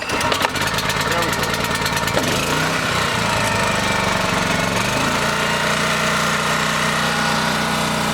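A Champion 4000-watt digital hybrid inverter generator is pull-started, briefly sputters, then catches and settles into a steady, close running drone, with a voice heard over the start.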